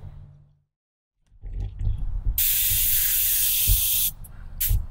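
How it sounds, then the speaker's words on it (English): An airbrush sprays acrylic finish onto a leather holster in a loud, steady hiss that lasts about two seconds, then cuts off and gives a short final burst, with a few soft handling knocks before it. "by applying it with an airbrush"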